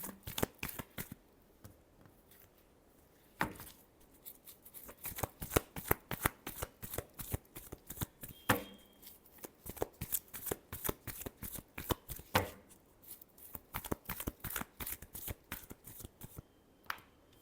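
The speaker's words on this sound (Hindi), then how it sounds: "last shuffle" Tarot cards being shuffled by hand in a long run of crisp riffling flicks and slaps, dense and rhythmic with a few short pauses, close and clear with no talking.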